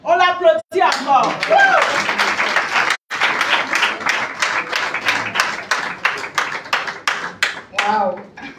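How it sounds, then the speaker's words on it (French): At a Women's Day event at Ivotel in Plateau, the audience claps in a steady, loud, rhythmic beat. A voice speaks and exclaims over the clapping at the start, and there is a brief pause before the beat resumes and continues. "On l'applaudit encore."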